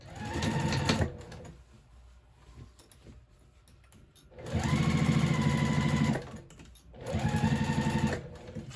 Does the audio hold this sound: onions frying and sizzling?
no